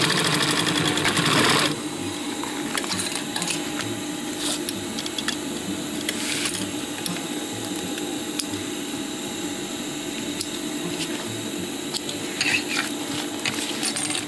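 A sewing machine stitches elastic tape onto a fabric chest-pouch pocket, opening with a brief louder burst, then whirring steadily and closely for a long stretch with faint mechanical clicks.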